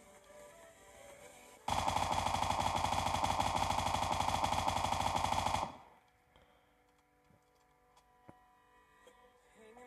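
An automatic rifle in a video game fires one loud, sustained rapid burst lasting about four seconds, then cuts off to quiet background with a few faint clicks.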